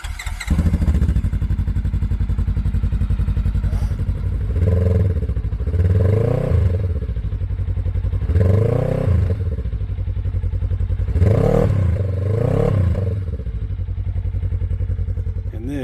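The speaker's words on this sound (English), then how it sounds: "And here's the first test with the new exhaust." A 2018 Polaris RZR 900s with a new MBRP exhaust idles loudly and close, then is revved in about four distinct throttle blips that rise and fall over the rumbling idle.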